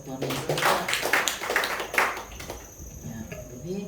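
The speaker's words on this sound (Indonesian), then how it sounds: "tepuk tangan buat Tuhan Yesus." A church congregation during a Sunday worship service applauding briefly, a burst of clapping from many hands that swells and fades within a few seconds, mixed with voices.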